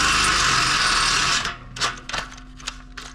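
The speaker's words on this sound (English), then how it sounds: "So we'll drill this a little bit." A cordless drill whirs loudly for a moment while boring into an Exmark Vertex X mower pedal, then cuts off and gives way to a few short ratcheting clicks.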